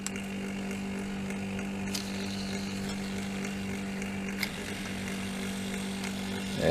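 Hum of a simple homemade brushless DC motor running steadily, with additional rotors set spinning in the opposite direction nearby; a constant close drone with small clicks and a brief rattle near the end.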